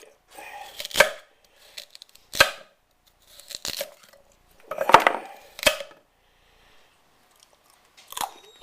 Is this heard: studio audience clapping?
no